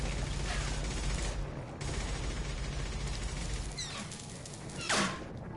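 Gunfire during a firefight in Mass Effect 2, a steady crackle of shots running throughout with a sharper burst near the end, mixed in with game ambience.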